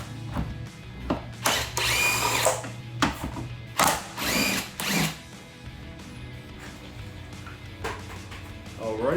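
Impact wrench with a lock socket removing a wheel lock on a Jeep Wrangler JL: several loud, short rattling bursts of hammering, a few seconds each and separated by pauses, set against a quieter shop background.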